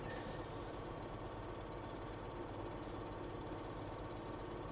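Tractor engine under Courseplay control in Farming Simulator 17, a steady low mechanical drone running continuously at moderate level with no talk over it.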